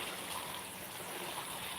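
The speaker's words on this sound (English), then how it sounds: "the hand that is holding the hose in watering the garden, watering our plants" Steady, close water spray from a garden hose watering plants in a garden, an even broadband hiss that runs without break and with no talk.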